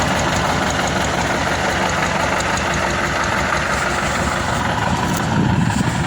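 A small homemade tractor pulling a plough built from scrap metal through a field gives a continuous, loud, rough engine drone with a knocking, rattling edge, steady throughout.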